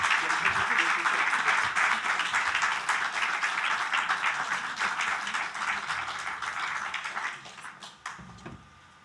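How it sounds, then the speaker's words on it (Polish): Sustained applause from an audience at a sports film festival gala, dense and steady, gradually thinning and fading out toward the end. "Ja bym poprosił, żeby te brawa były trochę większe"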